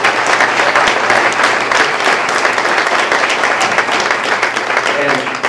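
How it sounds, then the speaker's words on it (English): A school-district audience gives a steady, loud round of applause for elementary students' speeches, continuous clapping filling the room with a few voices mixed in. "So both of them deserve a round of applause"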